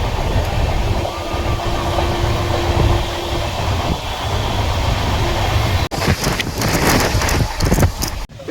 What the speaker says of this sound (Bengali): এই মুহূর্তে আমাদের ট্রেন টপকাচ্ছে দুর্গাপুর।